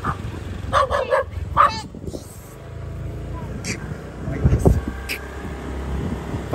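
A dog gives a few short barks and yips early on, mixed with people talking outdoors and a vehicle rumbling nearby.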